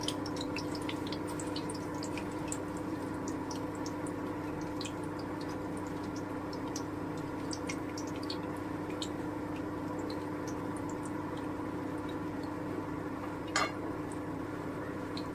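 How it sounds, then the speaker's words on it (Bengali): Bread slices fry in oil with a steady, close, broadband sizzle, while a wooden spatula stirs them now and then, adding faint scrapes and soft taps. One brief louder clack stands out near the end, and nobody talks. "আমি একটু লাল করে ভেজে নেব আমি কাঠের খুন্তিটা দিয়েই নাড়বো"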